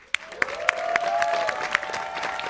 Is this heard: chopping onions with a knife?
no